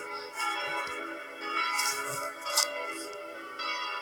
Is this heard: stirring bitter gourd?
no